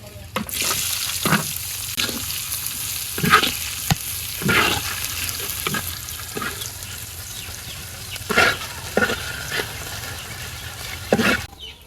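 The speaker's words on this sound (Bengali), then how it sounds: "এদিকে পেঁয়াজ রসুন আর মরিচ টালা হয়ে গেছে" Chopped onion, garlic and green chili frying in a wok, a steady hissing sizzle punctuated by regular stirring scrapes of a spatula, close up and sustained.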